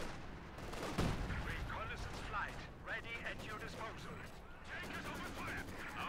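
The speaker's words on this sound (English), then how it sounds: "Tank has opened fire." Tank cannon fire in a war strategy video game sounds as repeated booming gunfire and artillery blasts, one heavy shot standing out near the start, under ongoing battle noise with talk over it.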